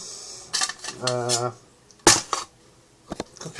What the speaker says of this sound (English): it's a standard Swedish triag style cook set with slight modifications